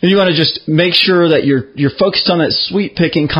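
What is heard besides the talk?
No distinct noise like a dog, phone or traffic.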